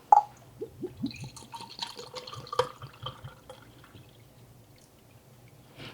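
Worcestershire sauce pours into a measuring cup for barbecue sauce, heard as a short run of irregular drips and glugs near the start, then tapering off into quiet near the end.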